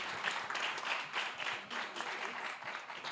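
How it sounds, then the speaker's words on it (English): An audience at a fintech competition semi-final applauds a finalist from Togo, a light, somewhat distant wash of clapping rising and dipping over a few seconds without speech. "A huge round of applause"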